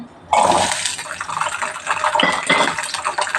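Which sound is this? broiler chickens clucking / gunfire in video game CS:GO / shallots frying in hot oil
shallots frying in hot oil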